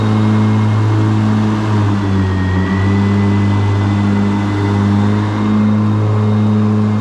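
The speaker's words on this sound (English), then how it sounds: "let's turn them on low" A Ryobi battery zero-turn lawn mower runs with its blades on low, a steady, loud motor whir with a low continuous hum and faint high whine, holding an even level throughout with no voices.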